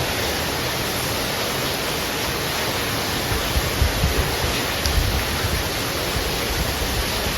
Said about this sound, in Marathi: एवढा पाऊस